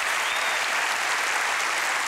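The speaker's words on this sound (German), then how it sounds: "Applaus, meine Damen und Herren," Studio audience applauding a billiards trick guest on a TV late-night show, a steady, dense, even burst of clapping throughout.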